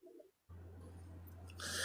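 Pet birds indoors give a few faint, brief chirps in short bursts over a low hum, before a louder rustling noise swells at the end.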